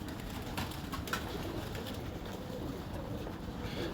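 Pigeons coo softly and continuously under a steady wash of broadband background noise, with no distinct close calls standing out.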